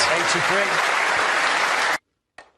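A crowd at the World Snooker Championship final breaks into loud, dense applause under a commentator's voice, then cuts off abruptly to near silence with a brief faint return at the end.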